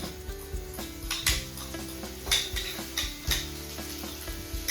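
Crushed plain boiled potatoes fry in a pan, giving a steady close sizzle broken by irregular scrapes and stirring knocks, with no voices.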